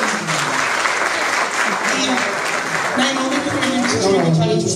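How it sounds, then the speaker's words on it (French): Dense, steady audience applause at an event in Conakry, Guinea, loud and continuous throughout with crowd voices and cheering mixed in. "Applaudissez pour vous-même."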